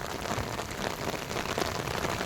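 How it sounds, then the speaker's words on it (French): Heavy thunderstorm downpour drumming steadily on surfaces, with overflowing gutters and a flooded road nearby; dense, continuous close hiss of rain without any voices. "Gros orage, les gars. Le caniveau déborde."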